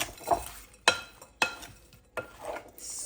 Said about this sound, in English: So in goes the Bombay mix. And now all we need to do is mix it up